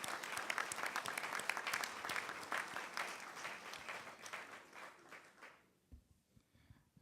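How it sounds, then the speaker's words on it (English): Audience applause at an award ceremony builds into a steady round of clapping, then thins and fades to scattered claps and quiet. "I think they deserve another round of applause."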